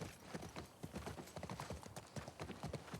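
Quiet, steady hoofbeats of a horse trotting in a zombie video game, a continuous rhythmic clip-clop at low volume.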